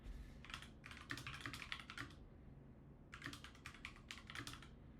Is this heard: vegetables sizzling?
no